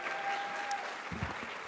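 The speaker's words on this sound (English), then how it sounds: "Can we give her another round of applause?" An audience claps at a physician assistant program white coat ceremony, a faint, steady patter of applause throughout, with a few low thumps toward the end.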